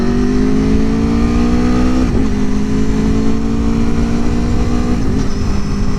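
A 2021 Aprilia Tuono motorcycle engine under way on a bumpy road, loud and close, with a droning rising pitch that drops at each gear change, twice over.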